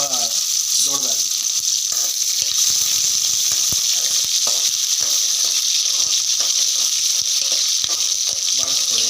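Chopped onions fry with cinnamon sticks in a pan, giving a steady, loud sizzle with light stirring scrapes throughout, close up and with no talk.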